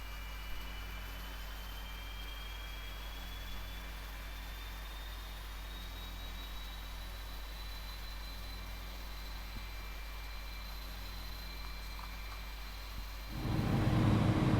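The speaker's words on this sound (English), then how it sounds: "So engine number 2 now coming to life." An Airbus A300-600R jet engine spools up in X-Plane 11, a steady whine rising slowly over a constant low rumble, then swelling louder near the end.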